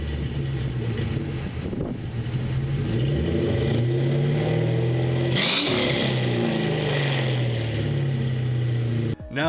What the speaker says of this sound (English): of course a great sounding V8 engine